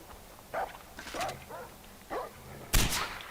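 A dog in the video game Far Cry 4 barks a few times, fairly faint and spaced out, followed by a sharp loud bang near the end; no talking.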